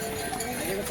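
Horse hooves clip-clop along the Kedarnath trek path, steady and close, amid a busy, noisy mix of trekkers talking on the crowded mountain route.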